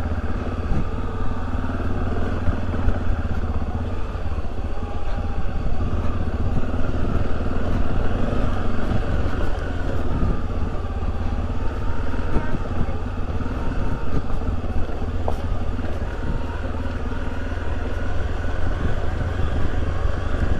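A Honda XRE300 motorcycle engine braking in second gear on a descent, a steady loud low drone with rumbling wind noise throughout and no clear change in pitch.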